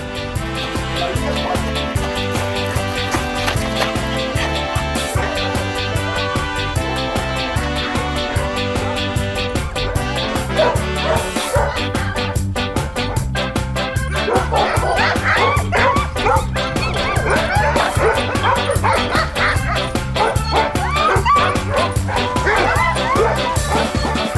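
Jamaican sled dogs on a dogsled racing team bark, yip and whimper almost without pause over a steady tonal background, the yelps growing busier and more excited toward the end.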